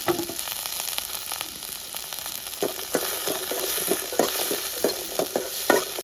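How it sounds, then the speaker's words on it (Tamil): Small onions fry in oil in a pan, giving a steady crackling sizzle with repeated scraping strokes of a stirring spoon that quicken toward the end, close and moderately quiet, with no speech. "சின்ன வெங்காயம் வறுத்தாச்சு"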